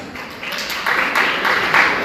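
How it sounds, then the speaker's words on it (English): Audience applause in an academic talk setting on excellence and handling difficulties, a steady wash of clapping that swells slightly partway through and holds at a moderate level to the end. "Please, a round of applause for them."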